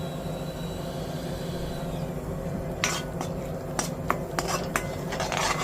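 Metal spoon scraping and tapping in a pan while ridge gourd chutney is stirred together with tempering, a few sharp clinks over a steady low kitchen background.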